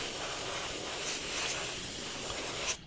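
Steady, continuous hiss of an airbrush blowing plain air to dry lacquer paint on a Tamiya 1/32 F-16 model kit, close and even for nearly three seconds before cutting off with a couple of small knocks.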